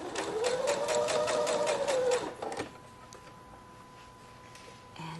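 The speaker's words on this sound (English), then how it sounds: "And just keep on sewing this funny little seam" Sewing machine stitching a freehand curved seam in fabric, a rapid rhythmic needle clatter with rising motor hum for about two seconds, then stopping, followed by faint clicks and handling.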